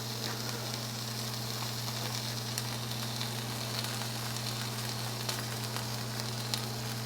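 Salmon fillets frying skin-down in a pan, a continuous even sizzle with a low steady hum beneath, close and unbroken throughout.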